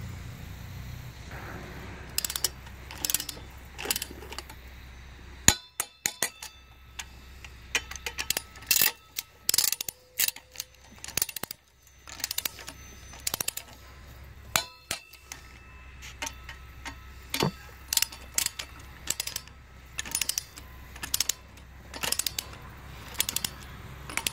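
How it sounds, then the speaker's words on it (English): Ratchet wrench torquing bolts to 35 foot-pounds on a 2013-2015 Chevrolet Malibu LT 2.5L engine, heard as steady runs of rapid metallic clicks in bursts with short pauses and occasional clanks, close and fairly loud, no talk. "I'm going to torque these down to 35 foot-pounds"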